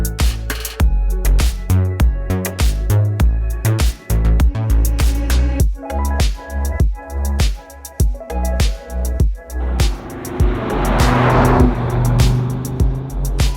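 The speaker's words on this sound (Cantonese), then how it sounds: "唯一冇爭拗嘅就係呢副引擎啦，2500cc 5氣缸 Turbo 真係 Audi 嘅鎮店之寶。" An Audi RS Q3 Sportback with a 2.5-litre turbocharged five-cylinder engine drives hard, loud and close, with rhythmic pulsing revs and gear changes, ending in a rising, rushing surge of engine and road noise.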